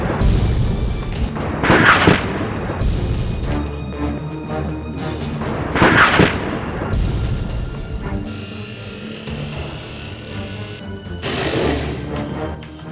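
A mini 1:72 remote control German Tiger tank toy fires three loud booming shots spaced a few seconds apart, each burst ringing out over a steady background.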